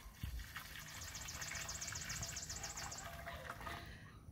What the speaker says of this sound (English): all I'm doing is pouring in my 2 cups of milk